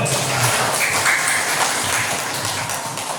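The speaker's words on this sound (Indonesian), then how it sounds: "Ya, tepuk tangan dulu." An audience of students at a school orientation claps together in dense, sustained applause of steady loudness for about three seconds.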